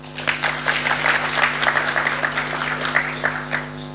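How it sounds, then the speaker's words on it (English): Audience applause fills a conference hall at an annual national conference of economists in Kenya: steady, dense clapping from many hands sustained for about four seconds, with a low electrical hum underneath. "Please clap for me."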